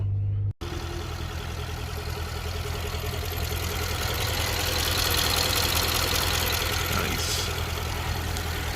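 A BMW X5 M, not yet warmed up, idles steadily and close by after the key is turned. The engine settles into a continuous, even rumble with a faint mechanical clatter and no talking over it.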